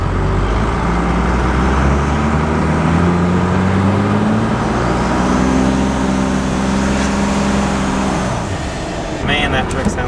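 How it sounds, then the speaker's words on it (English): A Cummins 5.9 diesel truck with a compound turbo drives along, its engine droning loud and close with rising and falling revs as it shifts through gears, turbo whistle audible near the end, with someone talking over it. "Man, that truck sounds good."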